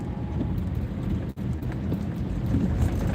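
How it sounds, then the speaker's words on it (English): Steady rain hisses outdoors over flooded roads in Petersburg, Virginia, in a continuous wash of noise, with a brief dip partway through. "And we got more rain coming in too."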